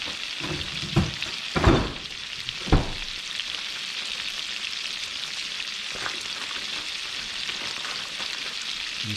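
Butter frying on low heat in a pan on a back burner while Thai-style Gulf shrimp are prepared, with a steady soft sizzle throughout and a few brief louder clatters of cookware near the start.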